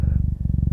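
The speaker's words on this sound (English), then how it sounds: "hopefully you can hear her purring" A cat purrs steadily and close up, a low rhythmic rumble pulsing with each breath, with no other sounds.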